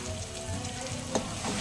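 Red chilli powder, turmeric, coriander-cumin and Kashmiri chilli roasting in hot oil for chole, a close, steady sizzle and crackle with a soft stirring scrape.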